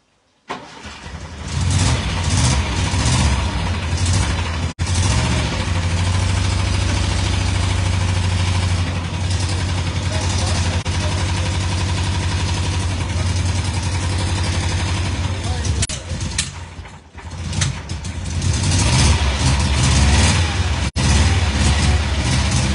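A VAZ car engine with a newly fitted F16 carburetor starts and runs at a steady, loud idle close by, with a low droning rumble that holds throughout and dips briefly once midway.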